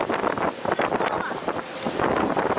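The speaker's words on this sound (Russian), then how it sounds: "Это что, маленький ветер? Это ветер." Strong storm wind buffeting the microphone at the seaside in Netanya, a loud, gusty rumble with surf mixed in and no talking.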